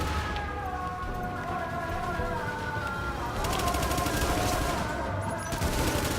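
Rapid bursts of gunfire in the video game Tom Clancy's The Division, sustained automatic fire over a steady droning background, continuous and fairly loud throughout.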